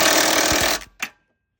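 A spanner winding a bolt's thread through the chassis of an RV step, a loud continuous metallic grinding rattle that cuts off abruptly, followed by two short knocks and then silence.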